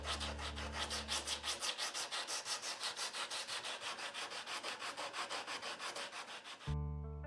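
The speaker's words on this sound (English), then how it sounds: "We're finally doing some sanding." Steady back-and-forth strokes of sandpaper rasp against the wooden neck of an Epiphone Les Paul guitar under repair, a fast even rhythm of about five strokes per second, close and continuous before stopping abruptly.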